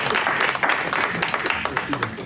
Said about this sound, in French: Si vous êtes d'accord, faites semblant d'applaudir.